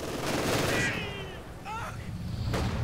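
Rifle grenade blast and scattered gunfire in Company of Heroes 2, a Soviet-versus-German 1v1 match, with a loud burst early, then sharp crackling shots and a later impact, under continuous battle ambience and game voices.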